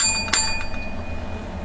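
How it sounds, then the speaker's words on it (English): A bright bell strike marks the start of the readings, a single clear hit followed by a lingering ring that slowly fades, heard alone without speech. "The readings have officially begun with the seven bells."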